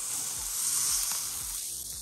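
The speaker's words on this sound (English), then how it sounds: "When you smell that asparagus frying in the skillet" A steady, bright sizzle of asparagus frying in a hot cast iron skillet, close and continuous with a faint hiss throughout.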